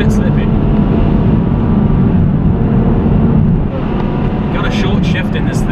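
A 2016 Ferrari driving along a slippery moorland road, its engine holding a loud, continuous drone that eases slightly near the end.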